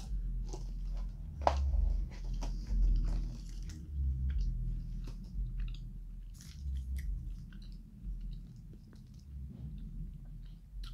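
Close, wet chewing of a chewy Hi-Chew candy, with continuous soft squishing and occasional sticky clicks, slow and steady, with no talking over it.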